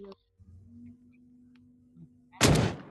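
A single loud gunshot in a video game bursts out near the end, sharp and broadband, after a quiet stretch with a low steady hum.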